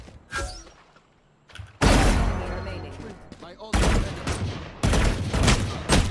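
Gunfire from the Valorant video game, several loud bursts of shots cracking past in quick succession with short pauses between them, close and harsh, with a faint voice underneath.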